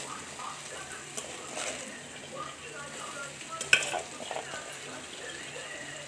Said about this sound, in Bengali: মশলা 4-5 মিনিট ভালো করে কষে নেওয়ার পরে কুচানা বাঁধাকপিটা দিয়ে দিতে হবে।